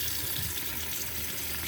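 Hot water runs steadily from a tap into a sink to wash out a Dyson DC33 dirt bin, a close, constant rushing splash with no voices.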